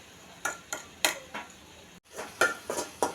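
A utensil stirs vegetable curry with green and red chilies and spices in a pan, giving sharp, irregular metallic clinks and scrapes close by with short pauses between them.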